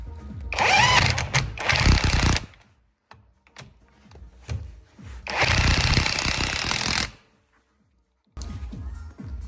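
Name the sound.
impact wrench tightening coilover strut top bolt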